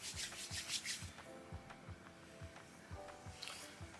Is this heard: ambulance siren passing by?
no